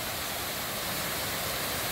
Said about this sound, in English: Oh, look at this waterfall.